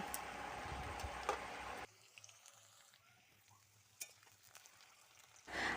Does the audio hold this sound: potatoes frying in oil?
yes